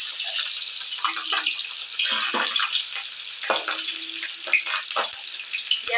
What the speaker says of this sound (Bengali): তেলের মধ্যে কাঁচা লঙ্কাগুলো দিয়ে দিলাম।